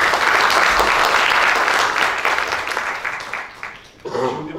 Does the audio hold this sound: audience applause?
yes